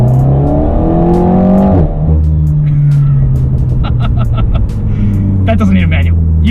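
A turbocharged Alpine A110 sports car accelerates hard, its engine note rising loud and close through a gear change, with quick mechanical clicks and whooshes following.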